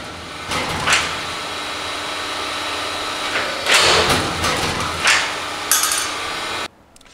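A used Accurshear hydraulic shear, model 625020, rated for 1/4-inch plate 20 feet long, cycling with its hold-downs and blade dropping. Loud mechanical thumps and clanks land in a few heavy hits over a steady hydraulic hum, close by.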